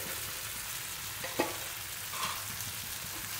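Okra (bhindi) frying in a masala gravy makes a steady, broadband sizzle with a single soft utensil knock partway through and a brief scrape after it, and no voices.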